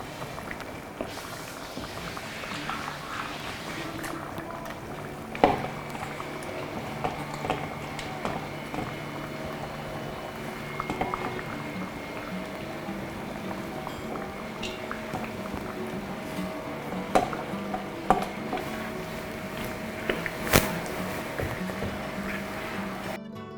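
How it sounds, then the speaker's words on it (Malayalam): Fish head curry masala bubbling in a pot for a toddy-shop style thala curry, a steady low simmer with scattered pops and clicks throughout. "മസാല നല്ല തിളച്ച് വന്നിട്ടുണ്ട്. ഇതിലേക്ക് നമുക്ക് തലയിട്ട് കൊടുത്ത് വേവിച്ചെടുക്കാം."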